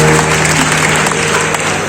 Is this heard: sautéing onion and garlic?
no